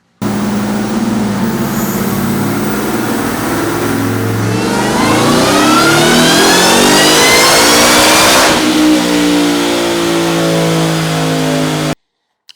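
A Ford Raptor R with a ported supercharger revs hard on a dyno, its engine note climbing steadily in a loud sustained roar past 7,100 rpm before holding high and cutting off abruptly.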